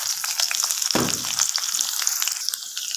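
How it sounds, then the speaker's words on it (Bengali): Garlic and onion with dried red chillies and nigella seeds fry in hot oil in a wok, a loud, close, continuous crackling sizzle that flares up sharply about a second in and keeps hissing steadily. "পেঁয়াজটা ভাজা হয়ে গেছে"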